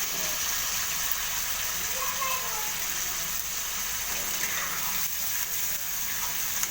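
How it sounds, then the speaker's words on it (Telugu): Washed goat tripe (boti) fries in hot oil in a kadai, giving a steady, close hiss and crackle that holds evenly through the whole stretch, with no voices over it. "ఆయిల్ బాగా వేడెక్కాక ఇలా కడిగేసి పెట్టుకున్న బోటీని అయితే ఆయిల్లో వేసేయాలి."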